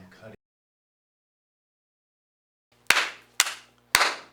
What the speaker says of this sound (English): Wait, you have a great clap.